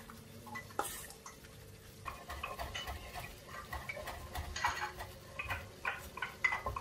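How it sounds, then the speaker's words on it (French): A spoon folds homemade mayonnaise into a salad with soft, steady scraping and occasional light clinks against the bowl, quiet and close throughout. "Et on va en mettre doucement, doucement dans la salade. Je commence avec une cuillère et on mélange."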